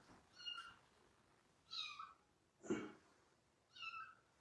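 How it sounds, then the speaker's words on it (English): A new kitten meows indoors, four clear high-pitched cries spaced about a second apart, close and fairly loud against a quiet background. "That sound is my new kitten."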